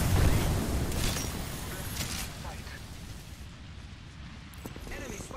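A frag grenade bursts in a first-person shooter, a loud blast at the start that decays into a long rumbling tail amid other game sounds and a voice talking.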